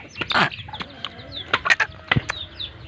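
A chicken clucks in several short, sharp bursts close by, with brief pauses between the calls and no talking.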